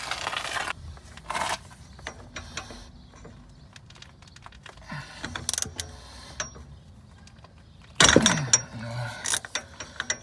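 A ratchet loosening a bolt on a Volkswagen Golf 7 anti-roll bar drop link gives off scattered mechanical clicks and rattling turns, with a louder burst of metal handling near the end, moderately close and with no talk.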